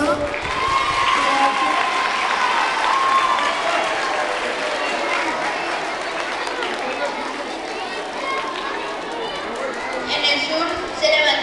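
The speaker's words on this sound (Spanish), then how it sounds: "Aplausos." Applause from a fourth-grade school assembly audience, a dense wash of many hands clapping at a steady level that slowly thins, with chatter and voices mixed underneath.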